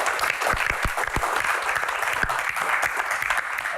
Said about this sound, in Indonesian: Tepuk tangan dong buat Pak Bolot.